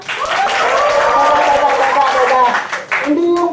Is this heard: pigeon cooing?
no